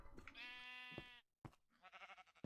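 Sheep in the Minecraft video game bleat twice: first a long, wavering cry, then after a short silence a shorter, choppier bleat, both close and clear.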